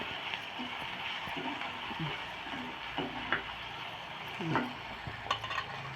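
Tomatoes and carrots sautéing in a pan for samba wheat kichadi, a low steady sizzle broken by a few scraping stirs of a spoon against the pan, moderately quiet with no talking.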